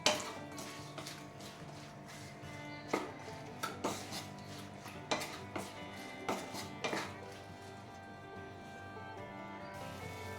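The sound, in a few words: stirring a vegetable dish with chilli powder in a pot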